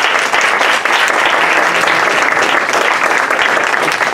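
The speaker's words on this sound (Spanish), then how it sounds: "Un fuerte aplauso y gratitud siempre." A loud, dense round of applause from an audience at a social entrepreneurship awards event in Mexico City, sustained and evenly packed with claps throughout.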